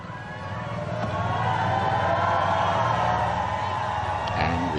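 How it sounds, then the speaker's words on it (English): A crowd in Luxembourg shouting its welcome to Pope Francis, a sustained distant roar of cheering voices and whoops swelling steadily and filling the whole stretch. "the crowds there shouting their welcome to Pope Francis"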